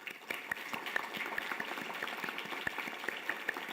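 A hall audience gives steady, even applause at the Tanner College of Dental Medicine white coat ceremony. Many hands clap at once, sustained throughout without talk.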